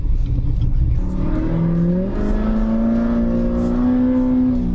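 A car engine fitted with a stage 2 cam revs up loud and close, its pitch climbing in steps and then holding a high, steady drone.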